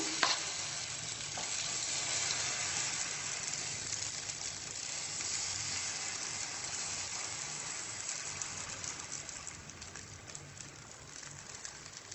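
Suji veg toast cooks in melted butter on a slow flame, a soft, even sizzle with fine crackling that carries on continuously and eases off slightly toward the end.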